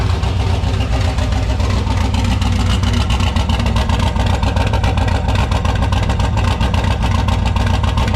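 A turbocharged, E85-fuelled drag car engine about twenty years old runs steadily up close, a loud, rough, throbbing rumble with no talk over it.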